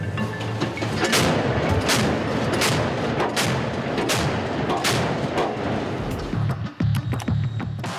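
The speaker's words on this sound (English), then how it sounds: "we see the cannon in action in this footage supplied by the Navy." A Russian navy ship's deck cannon fires a rapid series of heavy booming rounds, roughly one shot every half second, each a sharp loud blast over a constant rumble of wind and engine noise.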